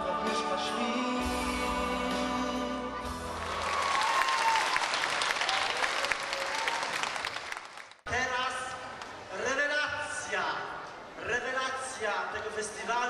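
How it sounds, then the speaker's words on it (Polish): An audience at a song festival concert breaks into loud, sustained applause after a song ends, a dense clatter of clapping that overlaps with singing before it and a compere speaking over it afterwards. "Wielkie brawa"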